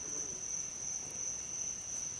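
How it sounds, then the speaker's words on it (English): A night chorus heard from a tent-like can shelter during an outdoor field test: one steady, high-pitched trill holds continuously over a soft hiss, close and even, with no voices. "Oh goody, I'll be serenaded by frogs."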